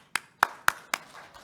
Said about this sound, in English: So please give a round of applause for Brent.